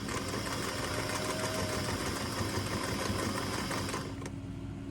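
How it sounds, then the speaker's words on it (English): A sewing machine stitches across a pants seam with a steady, close, fast mechanical whir and rattle that runs for about four seconds, then stops abruptly. "Now, I'm going to stitch across to the other side of this seam."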